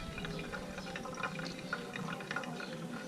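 Hot water trickles gently and steadily over coffee grounds in a pour-over brewer for a honey-process Nilson Lopez coffee, making a faint, continuous pouring sound with soft patters.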